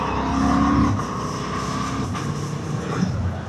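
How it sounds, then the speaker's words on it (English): A 2026 Honda Hornet 750 E-Clutch motorcycle engine drones steadily with a rough, burbling overrun as revs drop while downshifting, loud and close throughout. "Make that lovely overrun noise."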